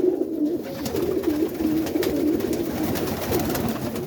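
Roller pigeons coo in soft, repeated rolling calls close by, over a low background hum, with no one talking.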